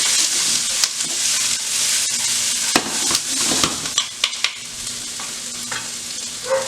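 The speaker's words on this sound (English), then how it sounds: "Give this a quick toss" Vegetables and chopped scallions tossed in a hot stir-fry pan, a steady close sizzle with scattered scraping clinks and stirring knocks throughout, no talking.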